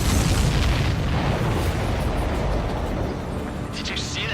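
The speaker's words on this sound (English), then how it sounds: "Did you see that explosion? Looks like that's one of them down." A supply ship blows up in the flight combat game Ace Combat 7, a loud rumbling blast that dominates at first and slowly tails off, with faint game chatter at the end.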